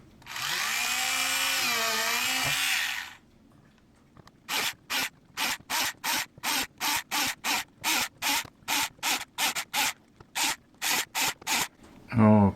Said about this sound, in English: So, should be a couple holes drilled here.